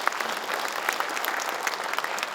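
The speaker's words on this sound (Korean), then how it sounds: "박수 부탁드리겠습니다" Crisp applause from an audience at a Gyeongbuk jobs project launch ceremony, a brief burst of many hands clapping at moderate volume with no voices over it.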